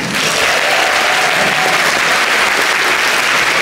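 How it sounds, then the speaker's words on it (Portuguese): An audience at a motorhome expo talk applauds loudly, a thick, unbroken burst of clapping and crowd noise filling the whole moment. "Uma salva de palmas para a Nômade também."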